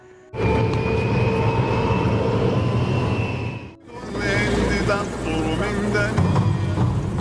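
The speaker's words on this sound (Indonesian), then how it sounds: "Mereka pergi menggunakan pesawat" Airplane flying in a film scene, a loud, continuous engine roar with a whining tone that drops briefly midway and then resumes with shifting pitch and heavy rumble.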